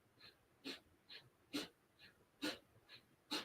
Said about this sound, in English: You can hear, I should say, the breath in my body